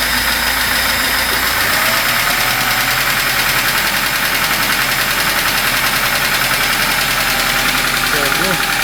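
A VAZ 2102 car engine, freshly overhauled and knocking, cranks and fires up after a short struggle, then runs with a steady, rough idle close by while people talk over it.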